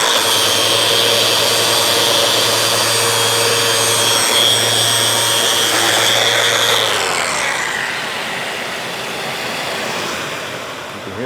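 A shop vacuum roars steadily close by in a woodworking shop, then its motor winds down partway through while a high whine and airy rush fade out.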